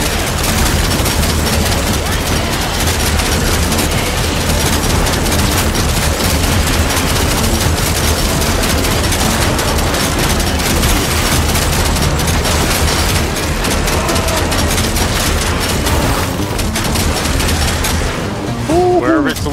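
Dense, continuous gunfire in a VR zombie-shooting game, loud bursts of rapid shots rattling almost without pause throughout, with a player's voice talking over the shooting.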